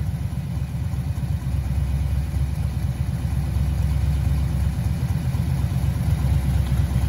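An LS V8 engine in a pro touring Chevrolet Camaro idles close by, its exhaust giving a deep, steady, loping rumble that continues throughout with no talking.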